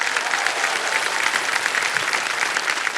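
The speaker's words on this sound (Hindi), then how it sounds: "जोरदार तालियां बज जाएं इनके लिए" Studio audience on the KBC quiz show bursts into loud, dense applause, a steady wash of clapping that fills the whole stretch with no break.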